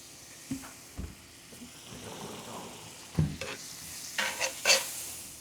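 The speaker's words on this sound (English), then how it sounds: "we're going to start with just a little bit of butter in that pan. Make sure that pan is piping hot" Butter sizzles in a piping hot pan ahead of a steak, a soft steady crackle under scattered knocks and clinks of utensils, close by with no talking.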